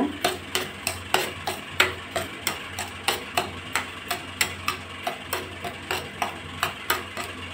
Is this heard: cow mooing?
no